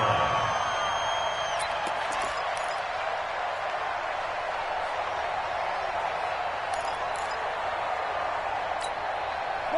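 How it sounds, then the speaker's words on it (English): A football stadium crowd roars inside the Dome during a game: a steady, dense wash of voices with occasional brief shouts, continuous and loud throughout. "The crowd here in the Dome making things difficult"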